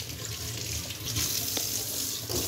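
Water runs steadily from a household tap into a basin, a close, continuous splashing rush with a slight surge partway through and no talking.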